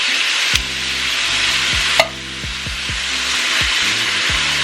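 Diced tomatoes from a can, seasoned with basil, garlic and oregano, stirred into translucent onions sizzling in a pan: a steady loud sizzle with repeated scraping strokes of a spoon and two sharp knocks against the pan.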